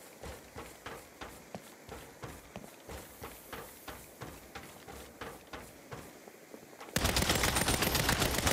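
Video game gunfire in Saints Row from an enemy camped on a hill, rapid repeated shots cracking in a steady rhythm, then a dense burst of loud continuous fire near the end.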